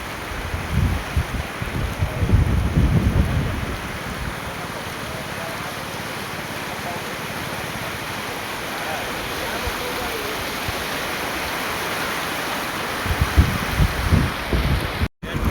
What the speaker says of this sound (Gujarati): હાલો જો નદીમાં પાણી હાલ્યું જાય આટલું